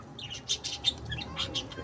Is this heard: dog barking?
no